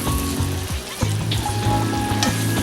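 Peppered steak and garlic sizzle and fry steadily in a hot pan, with occasional scraping and clacking as the pieces are stirred and pushed around.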